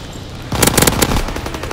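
Sustained machine gun fire in the World War II shooter Call of Duty: WWII, a loud close burst of rapid rattling shots that starts abruptly after a brief quiet lead-in and keeps going.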